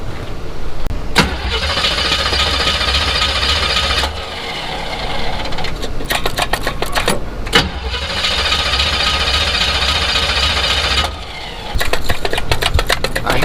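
Chevrolet C10 truck engine cranking repeatedly and catching, with loud rough bursts of running engine broken by starter whirring and pauses, close and dominant throughout.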